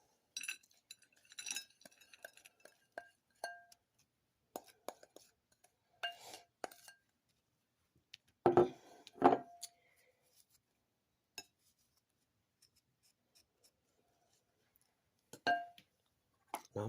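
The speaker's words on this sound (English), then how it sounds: "And we're just going to mix it until it's all combined." Cookie crumbs are stirred with butter in a bowl, with sparse, quiet scrapes and clinks of a utensil against the dish separated by stretches of near silence.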